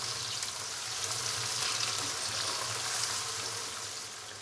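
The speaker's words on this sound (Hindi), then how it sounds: "प्याज को लाइट ब्राउन होने तक फ्राई कर लेंगे।" Finely chopped onions fry in hot oil until light brown, giving a steady, soft sizzle with no talking over it.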